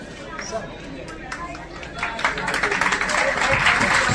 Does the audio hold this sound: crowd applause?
yes